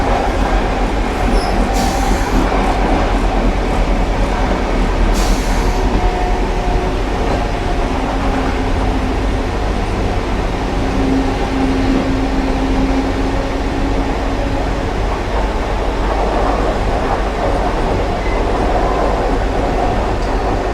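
Vande Bharat Express train running through a curving ghat section: a steady, loud rumble of wheels and carriage from inside the coach, with faint wheel squeals and humming tones on the curves, continuous throughout with no talk.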